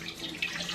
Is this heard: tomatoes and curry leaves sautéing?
no